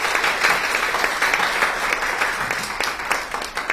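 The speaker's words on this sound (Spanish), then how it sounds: "Un aplauso," A room full of people at an in-person wholesale training event in Tuxtla Gutiérrez breaks into steady, dense applause that holds at an even, loud level for several seconds.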